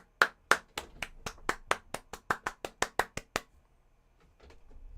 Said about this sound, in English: Clap, everyone clap.